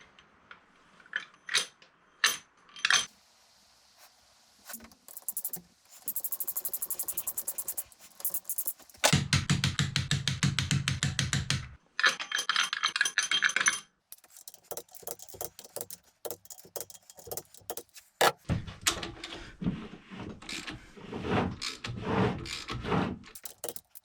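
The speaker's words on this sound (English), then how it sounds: "going to install some push rods and rocker arms into the cylinder heads" Push rods and rocker arms go into the cylinder heads of a V8 ski boat engine, making sharp close metallic clicks and taps, then two dense bursts of rapid ratcheting, then more scattered clicks. No one speaks.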